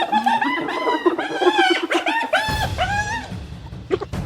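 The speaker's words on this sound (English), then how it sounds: "Hyenas arrive early, noisy, persistent," Hyenas in the Masai Mara savannah give a run of loud, close, rising whooping and giggling calls, overlapping in quick succession, with no speech.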